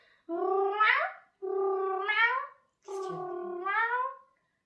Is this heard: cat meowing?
yes